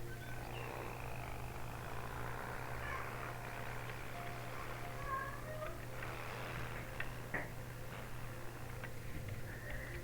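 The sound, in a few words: pet cats meowing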